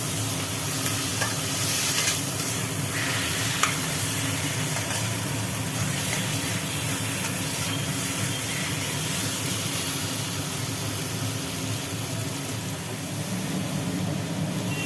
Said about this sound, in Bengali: মশলার সঙ্গে আলুগুলোকে একটু কষে নেওয়া হচ্ছে